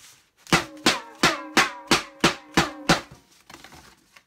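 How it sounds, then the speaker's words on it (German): Inflatable 60 cm boom sticks banged together, giving about eight loud, hollow, evenly spaced whacks followed by a few softer, quicker hits, close and alone. "Die bläst man ja auf, sind 60 cm lang. Und wenn man die dann zusammenhaut, gibt es dieses Geräusch."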